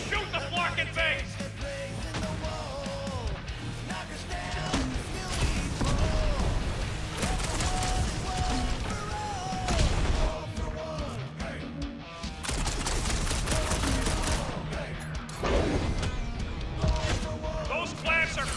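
Gunfire from the Guardians of the Galaxy video game, with repeated shots and crashing impacts scattered through a dense, loud mix of game music and effects. Voices speak now and then over the noise.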